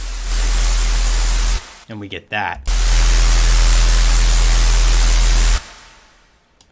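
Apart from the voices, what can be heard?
distorted white noise in music production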